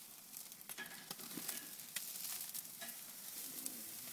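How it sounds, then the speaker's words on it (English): Steaks searing on a Big Green Egg grill at about 700 degrees give a steady, close sizzle with scattered crackles and pops throughout, and no talking. "We're going to flip them, sear the other side."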